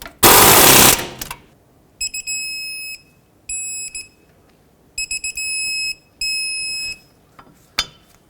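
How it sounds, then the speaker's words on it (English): While brake caliper bracket bolts are fastened on a 2009-2015 Toyota Prius, a short loud whirring burst is followed by several bursts of high, shrill electronic beeping, with quiet gaps between them. "let's bottom these out and then torque them to 101 foot-pounds"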